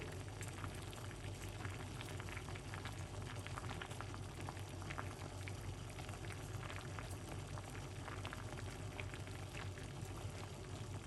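A herbal cleansing drink simmers in a pot on the stove, giving a steady dense bubbling and crackling that stays even and close throughout.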